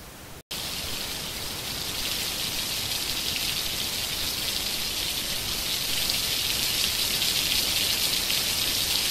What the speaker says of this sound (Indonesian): hujan ini kok deras sekali ya